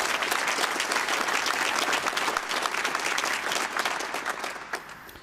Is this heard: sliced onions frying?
no